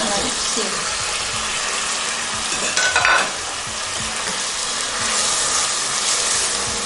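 Grated tomato hisses and sizzles as it hits a hot pan of sofrito with softened pepper, while a utensil scrapes and stirs it in a steady, close rhythm of scrapes and crackles that grows briefly louder partway through.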